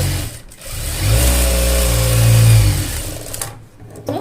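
A sewing machine stitches the folded hem of a pant leg in beginner tailoring work. The motor hums steadily for about two seconds, then winds down and stops, with no talking.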